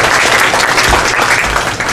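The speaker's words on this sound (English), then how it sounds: "A round of applause for her, please." A short burst of applause from a classroom audience at an English language teaching session, dense and close for two seconds, with no talking over it.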